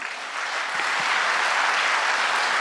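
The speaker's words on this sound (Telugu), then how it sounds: "ఒకసారి మీ అందరికీ గట్టిగా క్లాప్ అండి." An audience at a family achievers' reunion training event claps loudly, a dense, steady burst of applause from many hands that holds throughout.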